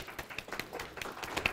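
Scattered clapping from an audience at a panel discussion, faint and somewhat irregular, with individual claps audible in the thin applause.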